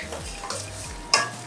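A pot of pepper soup bubbles on the stove in an African kitchen with a soft steady simmer and a faint hiss, and a brief sharp clink of metal near the end.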